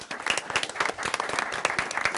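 A room of attendees at a Pitt County commissioners meeting gives a short round of applause, moderately quiet and even, many hands clapping together for a couple of seconds.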